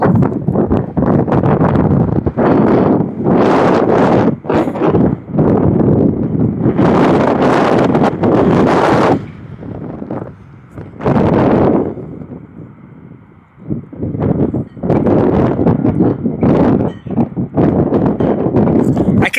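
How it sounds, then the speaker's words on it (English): Strong wind buffets the microphone outdoors in loud, rumbling gusts that come and go, with a person talking intermittently beneath the roar. "It's so windy out here."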